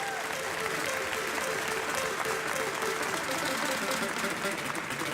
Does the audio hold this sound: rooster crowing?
no